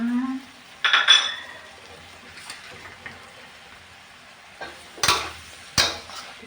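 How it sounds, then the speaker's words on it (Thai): Vegetables being stir-fried with egg in a pan: a few scattered spatula scrapes and metallic clinks against the pan over a quiet background, with louder clattering bursts near the end. "จะผัด ใบให้สุกนะคะ ให้เข้ากับไข่นะคะ"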